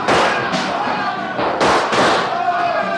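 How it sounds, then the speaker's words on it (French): Gunfire effects in a French radio drama of Treasure Island, a fight in a smoke-filled house: several sharp loud bangs in quick succession with crackling, ringing decay, mixed with shouting voices. "les éclats des coups de feu retentirent dans mes oreilles."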